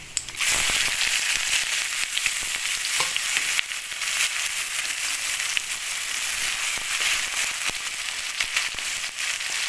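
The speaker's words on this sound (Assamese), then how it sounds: "যেতিয়ালৈ পিঁয়াজখিনি স্লাইট গল্ডেন ব্ৰাউন কালাৰৰ হৈ নাযায় তেতিয়ালৈ পিঁয়াজখিনি ফ্ৰাই কৰি ল'ম" Chopped onions hit hot oil with whole spices and cumin, a loud, crackling sizzle that flares at the start and keeps popping and spitting unevenly throughout, with occasional stirring scrapes and no talking.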